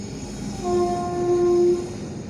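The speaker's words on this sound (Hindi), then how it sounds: "आपको ट्रेन की आवाज़ सुनाई पड़ रही होगी" A train passes close to a railway track, its horn-like tonal drone swelling in the middle and fading, loud over a steady rumbling background with no talk.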